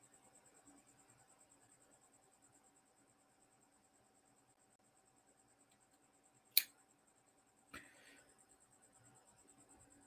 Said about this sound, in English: That's crazy that you guys can hear that cricket.